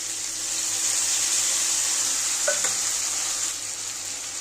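A spice paste of green chili, cumin, ginger and chili powder hits hot oil in a frying pan for Bengali-style katla fish curry, giving a steady, loud sizzle with a light scrape of stirring partway through.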